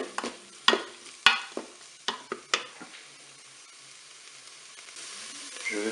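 Shrimp with curry get stirred in a Cookeo cooker: a handful of sharp scraping clacks of the utensil against the pot in the first three seconds, then a soft, steady sizzle and hiss continuing alone.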